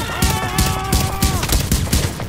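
Bursts of automatic gunfire from a firefight against enemy hostiles in The Division, a third-person shooter game, with rapid repeated shots in several clusters over a tonal game sound, loud and close.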